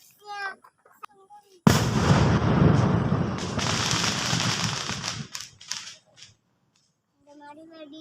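A Diwali firecracker bursts with a loud, sudden bang that spills into about four seconds of crackling, rumbling blasts close by, set between bits of children's and adults' chatter before and after.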